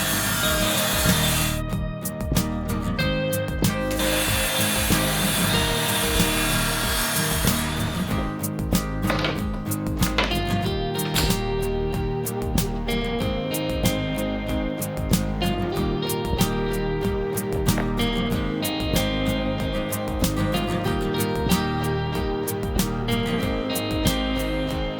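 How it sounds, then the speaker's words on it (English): Wooden table legs being cut to length at a miter saw in a workshop, with a loud, steady mechanical whine and grinding running nearly unbroken, close up. "Over at the miter saw, I clean up the edges and cut the legs to their final length."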